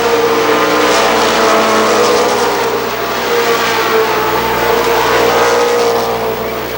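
Stock cars racing at Columbus Motor Speedway in the 1995 Firecracker Championship, a loud continuous roar of engines sweeping past close by, with rising and falling pitch as the pack goes by.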